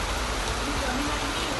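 Heavy monsoon rain pours down on a hillside near Sakholi village in Dapoli, Konkan, a close, dense, unbroken hiss of falling water.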